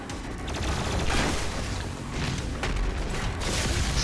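Plasma rifle fire in Doom Eternal sounds as dense, continuous rapid bursts, loud and close, layered with booming impacts and crackling energy noise that runs unbroken for several seconds.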